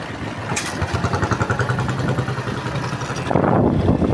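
A motorcycle engine idles with a rapid, even putter, swelling slightly louder toward the end.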